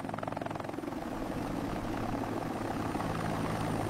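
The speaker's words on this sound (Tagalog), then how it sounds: "Sakay tayo sa bamboo helicopter!" A bamboo helicopter in flight in an AI-generated scene, its rotor chopping steadily and loudly throughout, with a constant droning whir and no talking.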